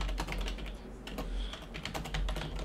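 Quiet, close computer keyboard typing in irregular bursts of soft clicks and key taps, with faint low background hum.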